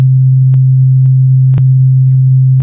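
Two steady sine waves at matching low pitch, one being shifted toward 180-degree phase opposition so they cancel; a loud continuous hum holds throughout, broken by brief clicks as the phase shifts.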